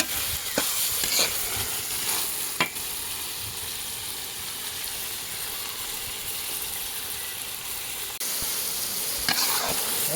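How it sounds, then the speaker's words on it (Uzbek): Sliced onions and two bay leaves frying in a pan for a beef-heart dish, a steady loud sizzle running throughout with occasional scraping clicks of stirring. "Va piyoz bilan yaxshilab endi bitta qovurib olamiz."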